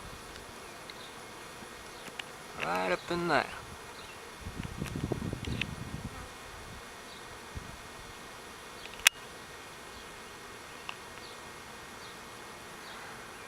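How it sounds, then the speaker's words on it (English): A swarm of bees clustered in little balls on a tree branch buzzes faintly in the background, with brief nearby rustles and someone speaking a few words over it. "There's one little ball of bees, and then there's another little ball of bees on up this branch here."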